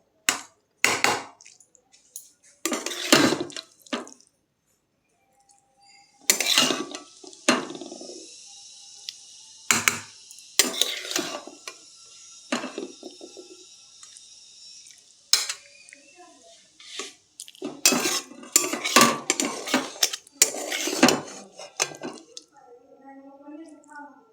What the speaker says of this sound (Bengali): এখন অন্য একটা পাত্রে চচ্চড়িটা রেখে দেবো উঠিয়ে